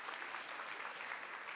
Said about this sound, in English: Ladies and gentlemen, a round of applause for Professor Özvar.